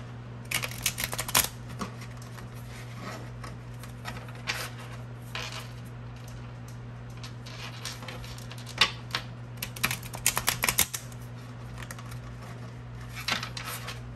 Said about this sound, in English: Why can't I shuffle this today?